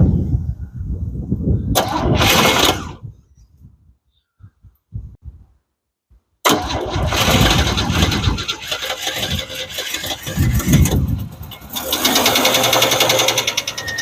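A 1988 Chevrolet S-10 Durango engine cranks and catches, sputters and cuts out, then fires again and runs loud and rough with an uneven, shaking rhythm, close by.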